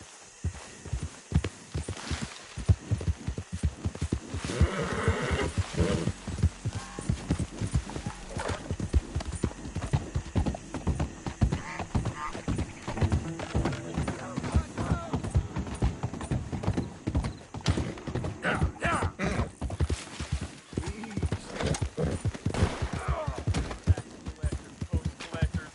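Horse hooves clip-clop steadily at a walking pace through a PS4 video game scene, close and continuous, with occasional whinnies and snorts and bits of game dialogue over the top.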